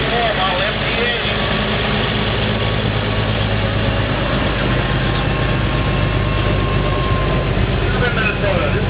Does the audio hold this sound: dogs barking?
no